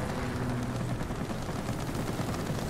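Rapid cannon fire from an I-153P biplane in World of Warplanes, a dense continuous rattle of shots over engine drone, steady and moderately loud throughout.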